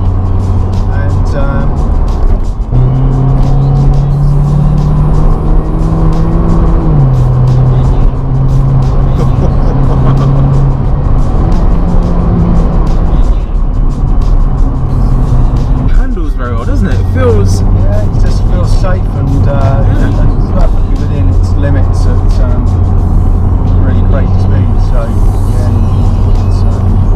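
A Mercedes A45 AMG in sport mode drives with a loud, close engine note that rises and shifts in pitch, with a brief burst mid-way, while someone talks over it.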